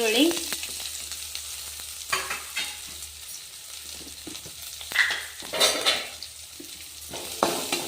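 Onion goes into hot oil with crackling cumin and mustard seeds for a North Karnataka bitter gourd palya: a bright sizzle with frequent spatula scrapes and pan clinks, close and steady, with no voices.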